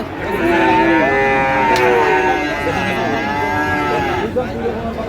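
A Sahiwal bull moos long and loud at a Chittagong cattle market, one drawn-out low call filling most of the clip with faint market noise beneath.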